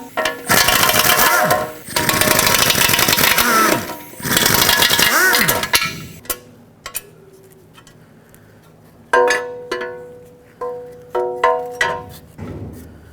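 A power tool with a 10mm socket spins out oil pan bolts on a Chevrolet Express, loud whirring bursts for several seconds, then quieter metallic clinks and short ratcheting runs as bolts come free.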